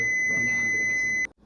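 A smoke detector sounds a loud, continuous high-pitched alarm tone during a function test, then cuts off abruptly.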